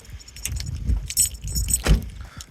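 A set of van keys jangles close by in several bright metallic bursts, with soft handling noises in between.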